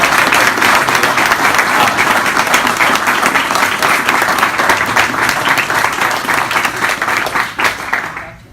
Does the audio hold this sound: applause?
yes